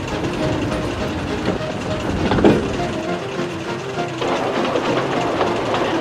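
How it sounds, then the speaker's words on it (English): A train rumbles along steadily with rhythmic clatter from the rails, close and fairly loud, continuing without pause. "The first train of the day is Henry's stopping service"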